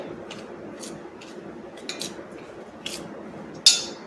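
Dry spices for gunda pickle masala, including asafoetida, are stirred with a spoon in a bowl, giving soft repeated scrapes and a few metallic clinks, the last one sharper and louder, with no talk.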